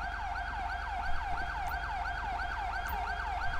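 Ambulance siren in the video game GTA 5, a steady rapid warbling wail repeating evenly and fairly close, over a low engine rumble with no talk.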